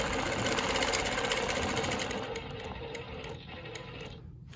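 A longarm quilting machine stitches along a ruler while quilting a Baptist fan pattern, a close rapid mechanical hum that slows and fades toward the end, with no talk.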